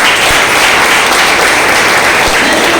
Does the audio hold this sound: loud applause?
yes